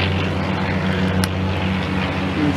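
A propeller airplane drones steadily overhead above a home garden, a constant low engine hum with a faint whine, fairly loud and unbroken with no talking.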